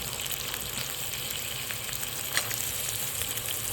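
Chopped potatoes and peas frying in a pan for a spiced vegetable dish, a constant even sizzle with soft stirring underneath, close up and without speech.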